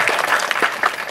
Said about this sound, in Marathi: खऱ्या अर्थानं बाबांसाठी एकदा जोरदार टाळ्या वाजवा.